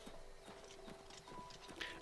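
Horse hooves clip-clopping in a rhythmic trot in the video game The Elder Scrolls IV: Oblivion Remastered, fairly close, with a faint whinny near the end.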